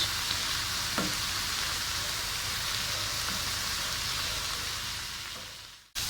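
Vegetables sizzling and frying steadily in a pan before chicken goes in, a continuous close hiss with occasional stirring scrapes, cutting off abruptly at the end.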